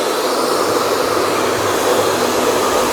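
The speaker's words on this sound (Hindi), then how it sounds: "अपने हेयर ड्रायर से अपने कपड़े सुखाए हों, लाइक अंडरवेयर्स एंड कोई भी चीज़?" A hair dryer blows steadily to dry clothes such as underwear, a loud continuous whooshing roar with no pauses and no voices.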